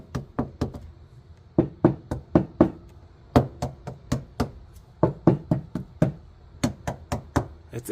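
A car body panel covered with KILMAT sound deadening is knocked by hand in quick clusters of dull, damped raps, with short pauses between the bursts. The knocks are close and clear.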